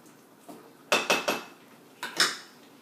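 A spoon stirs curry in a pot, making a few distinct metallic clinks and scrapes in two short bursts against a quiet background.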